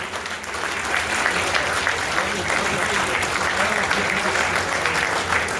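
Dense, steady applause from a crowd of union workers at a retirement ceremony, sustained and loud throughout with no pauses.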